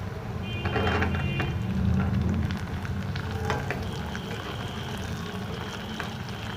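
Chopped onions hit hot oil in a pan for chilli paneer, giving a bright crackling sizzle that swells early and then settles into a steady frying hiss with occasional spatula scrapes.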